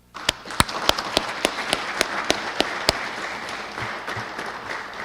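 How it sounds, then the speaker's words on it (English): A crowd at a police award ceremony applauds. Sharp, evenly spaced claps from one nearby person stand out over a softer spread of clapping that tapers off near the end. "Let's thank them with a round of applause, please."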